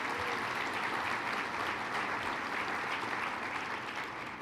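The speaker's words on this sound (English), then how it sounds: "Another round of applause, please." Sustained applause from an audience at a regional economic development awards ceremony, a dense, even wash of clapping that holds steady and loud throughout, with no voices over it.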